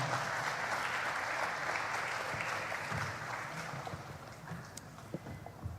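An audience applauds for Professor Francois Sema at the opening of an Asian prehistory congress, a steady broad wash of clapping from a large hall that holds for several seconds and thins slightly toward the end.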